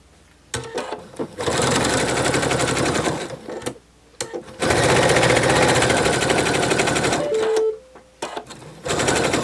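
A sewing machine stitches down the folded edge of a narwhal plush's horn piece in several loud bursts of steady rapid whirring, with short pauses between runs.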